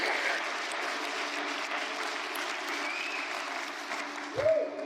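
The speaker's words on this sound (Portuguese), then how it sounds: "dê um forte aplauso ao Senhor" A church congregation applauding, a dense, steady wash of clapping that holds evenly throughout, with a brief low thump near the end.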